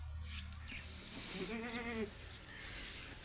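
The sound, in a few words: goats on a goat farm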